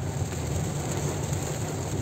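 Heavy rain drums steadily on a car while driving, a dense continuous hiss with a low engine and road rumble underneath, no voices.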